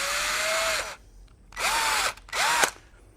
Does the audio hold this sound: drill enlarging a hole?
yes